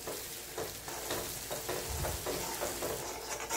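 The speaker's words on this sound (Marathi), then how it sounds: "छान असं परतून घेणं गरजेचं." Masala with turmeric, homemade spice mix and black chilli powder sizzles in a pan for egg curry while a spoon stirs and scrapes in repeated strokes, close and moderately quiet.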